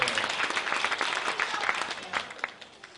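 A church congregation claps for kindergarten children at a Christmas Sunday service, a dense steady applause that holds, then thins and fades toward the end.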